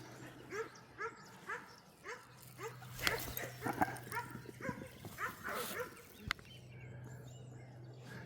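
Noisy dogs bark and yip repeatedly on a countryside dog walk in Martinborough, with rapid overlapping barks and whimpers at moderate distance over a steady low hum.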